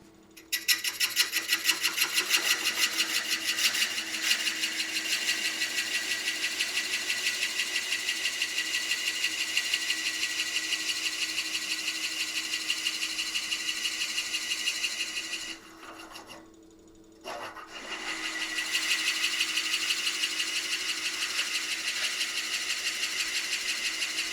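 A lathe hollows a dense, heavy pink ivory wood vase blank with a hollowing tool, giving a steady loud whirring drone with fine rasping texture that briefly drops away partway through, then resumes.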